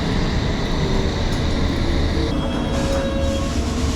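Steady loud rumble of a London Underground train running toward Baker Street, with a faint metallic whine rising partway through.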